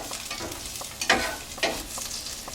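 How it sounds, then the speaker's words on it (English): Garlic sautéing in butter in a pan for a kale and mushroom pasta sauce, a soft continuous sizzle with a few sharper stirring scrapes, close and fairly quiet, with no voices. "saute the onions and garlic in butter actually, because that'll add more flavor for our pasta sauce"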